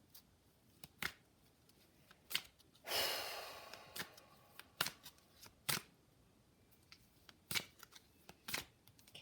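An oracle card deck is shuffled near and quiet, with sharp separate snaps and flicks spaced through the clip and one longer riffling rush partway through.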